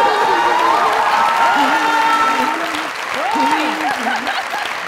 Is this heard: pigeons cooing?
no